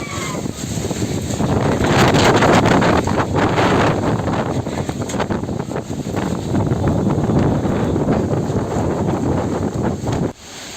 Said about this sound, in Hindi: राजधानी समेत कई जिलों में तेज हवाओं के साथ बारिश हुई।